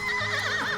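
A horse neighs in The Life and Suffering of Sir Brante game, a loud, wavering whinny sustained through the whole moment, with faint clip-clop beneath and no voices.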